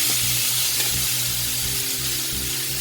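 Cooked spinach sizzling in a hot pan, a loud continuous hiss and crackle close up with a low steady hum underneath, no voices.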